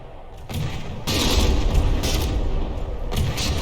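Heavy battleship guns landing hits in From the Depths during a tournament brawl, a series of deep booming impacts and rumbling blasts that swell in and hang on as continuous thunderous gunfire, loud and close with no talking.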